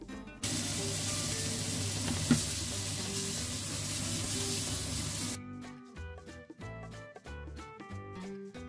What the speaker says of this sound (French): j'ai fait juste revenir mes gambas avec le sel, poivre, ail